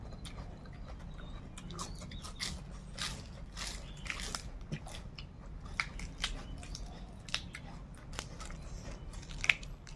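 Grilled pork sausage and Thai papaya salad being eaten outdoors, with steady close chewing, soft crunches and small bites over a constant low background hum, and no talk.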